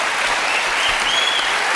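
Loud, dense studio audience applause on a French television show, sustained and even throughout with no speech over it.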